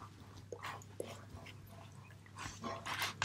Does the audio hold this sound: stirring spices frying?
no